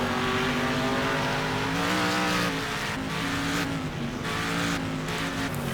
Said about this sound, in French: le bruit du moteur est plutôt bien fait